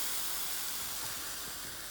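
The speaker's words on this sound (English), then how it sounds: "And then a hot iron on top." A hot iron presses onto a soaking wet towel, releasing a continuous loud hiss of steam, even and unbroken throughout.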